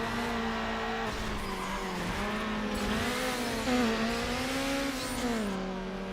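Toyota Celica race car engine in Need for Speed: Underground on the PS2, a loud continuous whine whose pitch rises and falls with gear changes, with tyre noise underneath.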